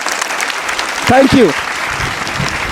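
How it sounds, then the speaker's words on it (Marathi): Audience applause for a girl at a Shivaji Jayanti quiz event, a short burst of clapping under a brief spoken thank-you. "एकदा जोरदार हिच्यासाठी टाळ्या."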